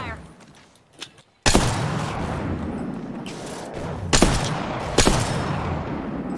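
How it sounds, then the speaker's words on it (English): Gunfire in the shooter game Apex Legends: a brief quiet lull with a faint shot, then a loud burst of sustained firing punctuated by sharp cracks, with players talking over the shooting. "See him? Opening fire."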